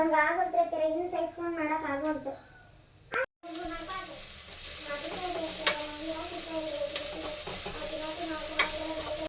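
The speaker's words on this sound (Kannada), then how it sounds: "ಈರುಳ್ಳಿ ಹಾಕ್ತಾಯಿದ್ದೀನಿ." Chopped onion dropped into hot oil in a pan for tomato bath, sizzling and frying steadily up close while a spoon stirs, with a voice and other speech mixing in early before the hiss settles.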